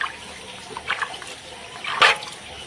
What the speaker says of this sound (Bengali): এটা ধুয়ে নিতে হবে জল দিয়ে, তাহলে কষটা চলে যায়।